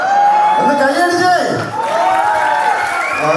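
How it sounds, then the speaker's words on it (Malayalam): An audience in a hall at a bass music night breaks into clapping and cheering, a loud wash of applause with whoops that starts strong, dips and builds again. "ഒന്ന് കൈയടിച്ചേ."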